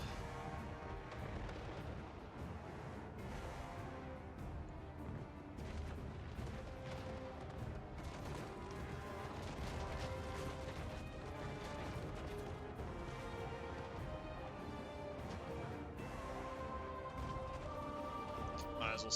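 Dense, continuous rifle volley fire from massed long-rifle troops in a strategy video game, sustained crackling and booming shots layered over battle noise throughout, with a voice speaking over it.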